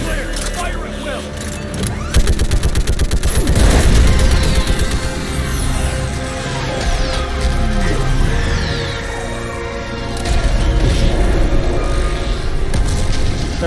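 Loud weapon fire and heavy booming blasts from combat in Mass Effect 3 Legendary Edition roll and rumble continuously, with deep impacts and a dense roar under overlapping voices.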